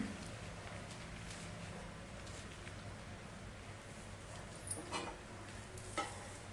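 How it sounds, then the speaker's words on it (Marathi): A masala dosa made from ration rice batter browns on a hot griddle with a faint, steady sizzle, broken near the end by a few light scraping or tapping sounds. "डोस्याला सगळ्या बाजूने छान सोनेरी रंगावरती भाजून घ्यायचं आहे"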